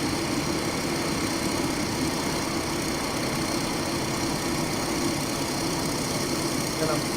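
A WWI aircraft engine in the Rise of Flight simulator held at full throttle, a steady dense drone with unchanging loudness for about seven seconds, no speech.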